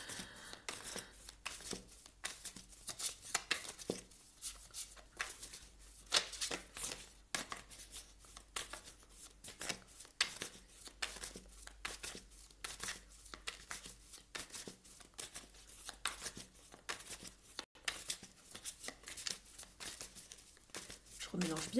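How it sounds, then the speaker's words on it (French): A tarot deck is shuffled with rapid papery riffles and crinkling card sounds that repeat steadily throughout, while a voice speaks over much of it. "Je remélange bien le jeu pour vous les cancers"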